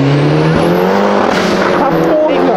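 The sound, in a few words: car engine with a non-original swapped engine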